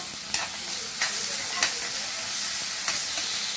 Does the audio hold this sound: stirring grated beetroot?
yes